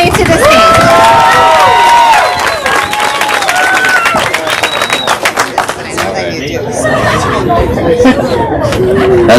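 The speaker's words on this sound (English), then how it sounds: "Cheer for him as he makes his way to the stage." Crowd at a Sunday Recovery Night event cheers and chatters loudly as a performer walks to the stage, a dense, continuous roar of voices with whoops and some clapping, steady throughout.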